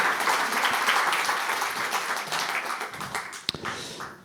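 Applause from a conference audience at a communications summit, a broad, sustained rush of many hands that slowly tapers, with a sharp tap or knock near the end.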